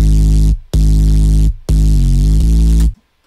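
A heavy, loud synth bass plays three long sustained notes separated by short gaps, with pitch gliding smoothly between notes in the third phrase before cutting off to silence.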